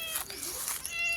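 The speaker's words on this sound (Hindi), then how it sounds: "हमारे मोहल्ले में एक पालतू बिल्ली भी है" A pet cat in a village neighbourhood gives a short meow nearby, a brief cry with faint background noise and no talking.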